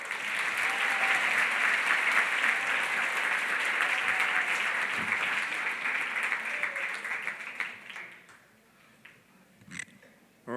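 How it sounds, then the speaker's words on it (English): Steady audience applause at a closing reception and dinner, sustained clapping that holds for several seconds before thinning out and fading, with a few scattered claps and a brief voice near the end. "give Target another big round of applause"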